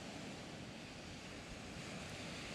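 Ocean waves wash steadily at a beach, a continuous roaring surf mixed with wind noise on the microphone, with no voices.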